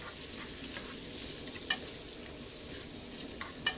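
Dried shrimp and bitter gourd cook in a pan, giving a soft, steady sizzle with occasional light clicks of stirring, fairly quiet and with no voices.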